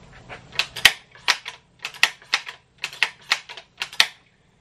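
Suppressed rifle shots, the rifle recently lubricated with CLP, fire in a quick uneven series of sharp close cracks, roughly a dozen short bursts with brief gaps and no voices.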